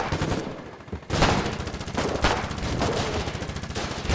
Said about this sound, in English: It's shooting at me.